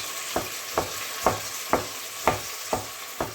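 Tinned tomatoes hitting a hot pan for red lentil soup, giving seven evenly spaced sizzling bursts with stirring scrapes in between, close and fairly loud, with no talking.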